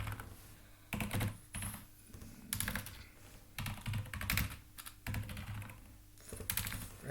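Computer keyboard typing during a Terraform setup, heard alone as bursts of close, quick key clicks separated by short pauses.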